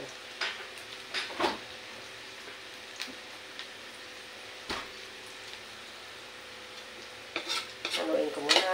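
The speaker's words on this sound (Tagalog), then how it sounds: "Haluin ko muna kasi luto na yung siya guys" Cooked shrimp being stirred in a pan, a faint sizzle punctuated by scattered utensil clinks and scrapes, busier and louder toward the end.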